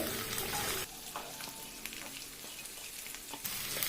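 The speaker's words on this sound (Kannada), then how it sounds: "ಒಮ್ಮೆ ಚೆನ್ನಾಗಿ ಫ್ರೈ ಮಾಡುವ" Onions sizzle and fry in a pan with ginger, garlic and curry leaves, a dense steady hiss broken by light stirring scrapes, close up and without any voices.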